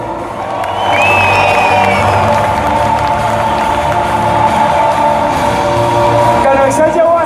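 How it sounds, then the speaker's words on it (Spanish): Loud crowd at a motivational business event, applause and cheering with shouts and whoops rising after the first second and holding steady, voices mixed into the roar. "un aplauso para Perú"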